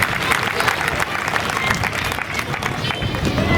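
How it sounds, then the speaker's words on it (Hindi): A large crowd applauds Narendra Modi at a public event in Nagda, with steady, dense clapping and cheering that holds loud and even throughout, with no voice speaking over it. "एक बार नरेंद्र मोदी जी के लिए जोरदार तालियां।"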